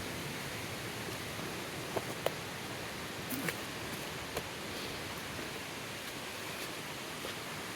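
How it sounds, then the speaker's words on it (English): Rapids on Mans Creek rush as a steady, even wash of water noise, faint and distant throughout, with a few small clicks and rustles near the listener and no voices. "Sounds like a waterfall."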